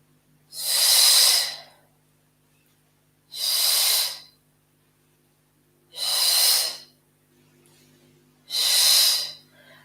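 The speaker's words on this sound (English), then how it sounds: "Exhaling as you drop, inhale as you transition." Four slow, even breaths of air pushed out and drawn in during a Pilates exercise, each a soft rushing hiss lasting about a second, close and clear, with quiet pauses between them.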